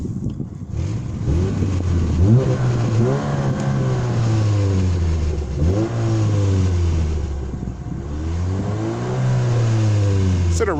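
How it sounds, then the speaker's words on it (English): A 2007 Pontiac G5's exhaust, heard from outside the car, revs up in several loud, raspy sweeps, each climbing and falling back to a steady idle. "we'll get a quick clip of the exhaust"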